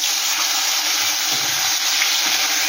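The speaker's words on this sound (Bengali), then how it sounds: "পেঁয়াজটা, আমি যে পেঁয়াজ দিয়ে গেট করে নিয়েছি সেটা আমি দিয়ে দিলাম।" Onion tipped into hot oil in a pan after cumin and a bay leaf have been tempered, giving a loud, continuous hiss and sizzle close up, with no voices.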